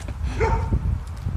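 A chained dog barks in the distance: a few faint, muffled barks and whimpers sit under steady low background rumble, with no talk.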